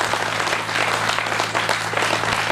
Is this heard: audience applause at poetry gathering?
yes